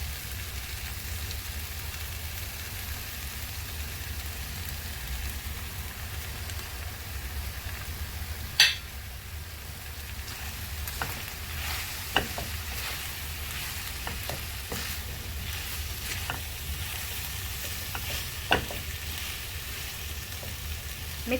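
Potatoes and onions frying with masalas in a pan for aloo palak, a continuous soft sizzle like light rain, broken by occasional clicks and taps of a stirring spoon, steady and alone.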